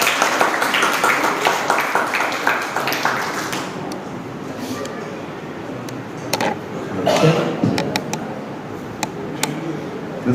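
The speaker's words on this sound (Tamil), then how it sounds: "கைத்தட்டி அவங்க வரவேற்கணும்." An audience at a church youth festival debate claps to welcome a speaker, with dense applause filling the first few seconds and then thinning into scattered claps and taps under a steady room noise.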